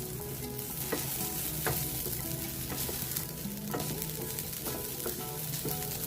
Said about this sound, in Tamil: தேங்காய் அதை நல்லா வறுத்துக்கணும் ஈரப்பதம் போக